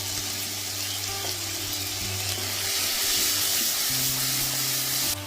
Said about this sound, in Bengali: সামান্য একটু জল দিলাম, মশলাটাতে ভালো করে কষানো হয়, পুড়ে না যায়